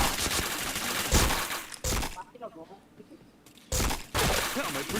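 Bursts of shooter-game gunfire come in loud, crackling volleys separated by quieter gaps, with a voice talking partly over them.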